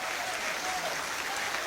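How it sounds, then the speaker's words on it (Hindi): A crowd at a devotional gathering honoring Hanuman and Ram breaks into sustained applause, an even, dense roar of many hands clapping throughout. "एक बार तालियां अच्छी उठा दें"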